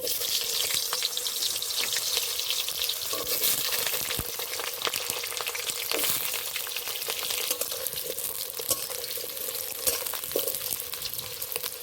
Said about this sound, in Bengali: আলুগুলো খুব ভালো করে ভেজে নিতে হবে